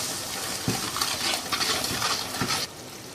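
A spoon stirs roasted tomatoes and onions in a pan, giving soft scraping and moist sloshing with a couple of light knocks against the pan over a faint sizzle, with no voices.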